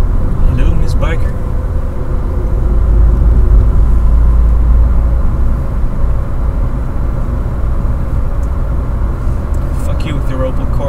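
Continuous low road and engine rumble from a car driving along a road in the Netherlands, steady and close throughout, with a voice talking over it at times.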